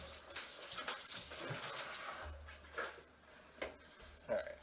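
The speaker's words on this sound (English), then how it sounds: "I'm gonna rinse my hands out" Tap water runs while hands are rinsed under it, a soft steady splashing with a few brief knocks and clatters, fairly quiet and close.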